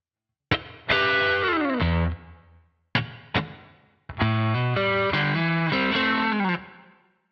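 Distorted electric guitar plays a passage slowly: ringing chords and bends in two phrases split by a pair of sharp muted stabs, loud and close with effects, no voices.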